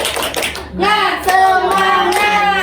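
A class of students claps and chants in rhythm, tepuk semangat, bursts of hand clapping interleaved with sung, voiced chant syllables, close and loud in a classroom.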